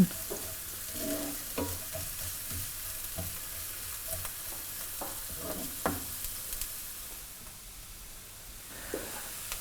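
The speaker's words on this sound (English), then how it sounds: "And I'm just putting the chopped onion into the pan." Chopped onion fries in a warm pan for a South Indian prawn curry, giving a quiet, even sizzle punctuated by scattered clicks and taps of stirring.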